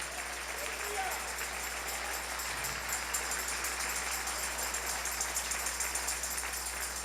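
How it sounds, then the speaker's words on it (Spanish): A church congregation applauding during a Sunday morning sermon, a steady broad patter of many hands that holds evenly throughout, with a faint low hum beneath and some murmured voices mixed in. "Dale un aplauso al Rey en esta hermosa mañana."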